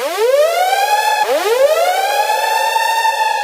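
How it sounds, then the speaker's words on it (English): A loud, buzzy synth riser tone with white noise sweeps upward, drops back and rises again, bright and siren-like. "bring the noise in, and bring the sweep back in"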